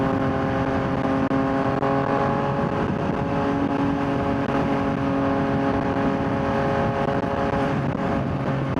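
A motorcycle accelerating hard in first gear, its engine roaring loud and close in a steady rising drone with wind rush and no talk.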